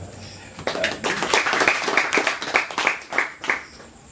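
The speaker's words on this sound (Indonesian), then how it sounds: "berikan tepuk tangan" Audience clapping at a book discussion of a five-poet anthology, a scattered round of hand claps that starts after a brief pause and keeps up steadily with uneven bursts, fairly close, with faint voices mixed in.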